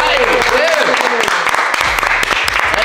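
A room of friends claps and cheers at a birthday gift giving, the dense applause loud and close and running the whole stretch, with voices shouting over it.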